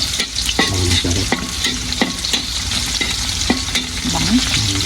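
Garlic sizzles and fries in a pan for fried rice while a utensil stirs and scrapes it with repeated clacks against the pan, loud and close with no talking.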